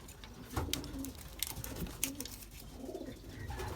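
A Belgian racing pigeon coos softly while being fitted with a chip band, its low repeated coos mixed with faint handling clicks and rustles in a quiet room.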